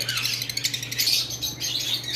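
Lutino red-eye Fischer's lovebirds chirp continuously in a busy, overlapping chatter of high, bright calls, close and steady, with a low electrical hum underneath.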